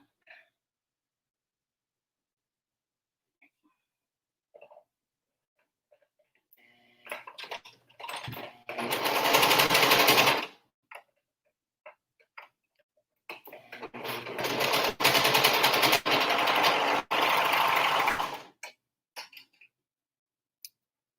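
A serger sewing machine stitches along a fabric edge in two loud, fast-whirring runs of a few seconds each, separated by clicks and handling noises, with near-silence between.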